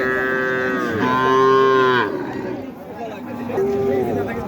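Sindhi cows moo loudly nearby at a livestock market in long, drawn-out calls, two calls close together and a third after a pause, with faint background chatter.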